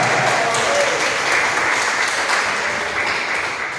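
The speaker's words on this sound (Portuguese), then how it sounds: "dar a mais forte salva de palmas ao Senhor Jesus" A large church congregation claps loudly and continuously, a dense, sustained wash of applause throughout.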